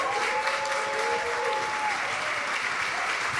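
A crowd at a labor law conference panel applauds the event organizers, dense continuous clapping filling the room with a faint tonal whistle underneath.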